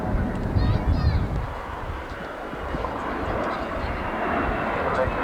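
A Dominie navigation trainer aircraft flies at the Farnborough Air Show, its engine a broad, steady distant roar mixed with wind and crowd murmur, while people talk throughout.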